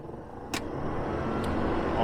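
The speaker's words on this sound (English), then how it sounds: "All speeds working on the blower, and they're working very nicely." Heater blower motor of a Jaguar XJ6 running, a steady broadband whoosh of moving air that swells slightly as it continues, close by, with two brief clicks.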